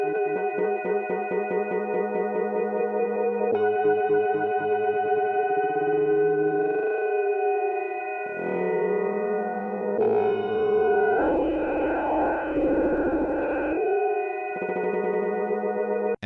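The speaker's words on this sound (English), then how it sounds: "I'm just going to play the sample and we adjust the grain size" A sustained tonal sample loops in Ableton while its granular grain size is adjusted, its grainy texture shifting from fine stuttering pulses to smeared, noisy washes and back again.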